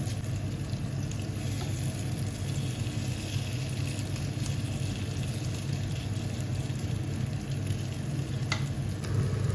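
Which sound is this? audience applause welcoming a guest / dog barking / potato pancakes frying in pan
potato pancakes frying in pan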